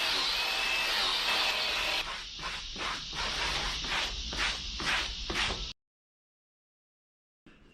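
A blade cuts through Kawasaki NX500 motorcycle seat foam, starting as a steady grinding rasp, then breaking into a regular series of short strokes before stopping abruptly into silence.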